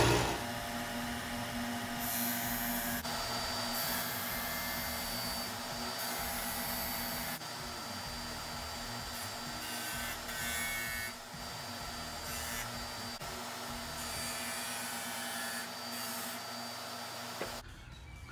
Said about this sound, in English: So I'm gonna turn it on and I'm gonna track it